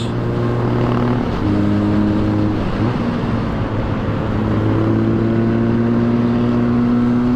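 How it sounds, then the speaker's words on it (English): Harley-Davidson X350 motorcycles ride into corners on a road, their engines droning steadily under heavy wind rush, and the pitch shifts as the bikes slow for the bends and pull out again. "we're approaching the corners on the X350s"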